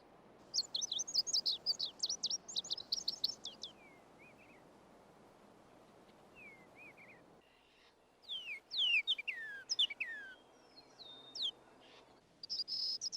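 Wild birds chirp and sing in a natural setting: bursts of quick, bright tweets repeat in a fast rhythm early on, then a pause, then sweeping whistled calls and trills return, with a steady insect-like hiss underneath throughout.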